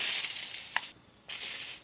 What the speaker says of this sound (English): You can hear the air spraying out of that.